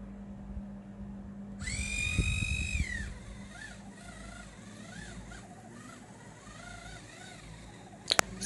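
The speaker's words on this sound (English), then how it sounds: "I'm going to be using my facial brush with that to cleanse my face with my vitamin C facial wash" An electric facial cleansing brush scrubbing a face during a wash with a vitamin C cleanser gives a buzzing motor whine that starts abruptly and wavers in pitch as it moves over the skin, close and moderate, with a sharp click near the end.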